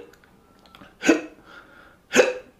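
A voice imitates a hiccup twice, two sharp, loud gulping bursts about a second apart, with no other sound between them.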